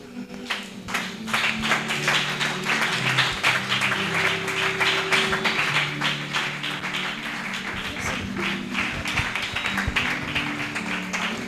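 Church congregation applauding and cheering, dense rapid clapping mixed with crowd voices and a low musical hum underneath, sustained and fairly loud throughout.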